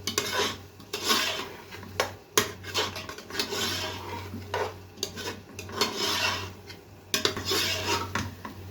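Carrots and meat fried in a pot, a metal spoon scraping and clanking against the pot in irregular strokes, close and fairly quiet, with a low steady hum beneath and no talking.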